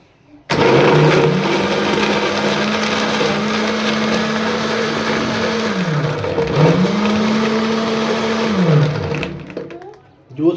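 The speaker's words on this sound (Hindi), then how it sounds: "इसको ठंडा करने के लिए जग में बर्फ़ डाल लेंगे और एक ब्लेंड करके इसको" An electric blender churns peach juice with ice in a jug, a loud continuous motor whir that dips in pitch twice as the load shifts before cutting off near the end.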